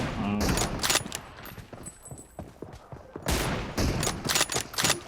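Gunfire in the BGMI battle-royale mobile game during a team deathmatch sniper match, with dense bursts of shots near the start and again toward the end, loud and close, with a quieter stretch between.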